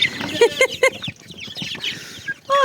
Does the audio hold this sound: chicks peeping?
yes